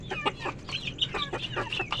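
Chicks cluck and peep in quick, close bursts while sprout feed is offered to them, a busy run of high chirps with no talking.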